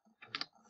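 A few quick key clicks on a computer keyboard while entering a pin number, a short faint burst of two or three close taps.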